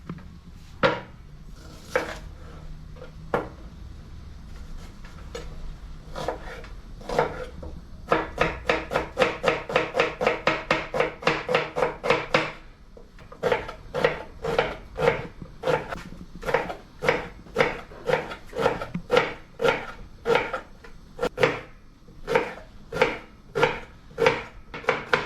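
Garlic is chopped on a wooden board in a home kitchen where quail stew is being made: sharp knife knocks, first a few scattered strikes, then fast even runs of rapid chops. The sound is close and clear, with no talk.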